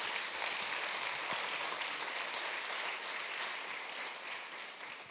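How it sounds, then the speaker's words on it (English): Conference audience at a women-in-tech event gives steady, broad applause that is moderately loud and somewhat distant. It fades slightly toward the end, with no speech over it. "please, a big applause."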